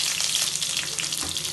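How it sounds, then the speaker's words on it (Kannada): Mustard seeds, cloves and chopped onion hit hot oil in a pan, giving a loud, close, steady crackling sizzle with brief spatters throughout and no talk. "ಈಗ ಸ್ವಲ್ಪ ಸಾಸಿವೆ ಹಾಕ್ತಾಯಿದ್ದೀನಿ"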